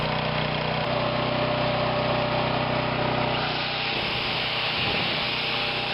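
Champion portable generator from Costco running steadily, a loud continuous engine drone with a shift in its low rumble near the end, no talking.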